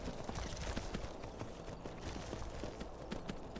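Horse hooves clip-clop steadily while riding in the video game Skyrim, a continuous quick rhythmic beat over a dense background bed, fairly quiet and with no speech.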